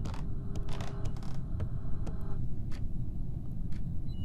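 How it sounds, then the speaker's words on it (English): Video game door creaking open, a close mechanical creak with scattered clicks over a steady low hum. "Oh, this door's open now."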